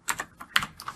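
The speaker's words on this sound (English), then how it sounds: "now I'm going to hit enter on my keyboard twice" Keys on a computer keyboard are pressed during coding, a quick burst of several light, close clicks within about a second, quiet and with no voices.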